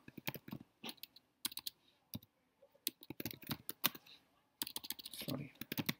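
Rapid keystrokes on a computer keyboard while entering values into statistics software, steady bursts of close clicking with short pauses between runs.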